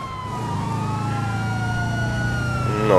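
A police siren in GTA V chases the player, wailing loudly and steadily over a rumbling vehicle engine, its rising and falling tones sweeping close by throughout.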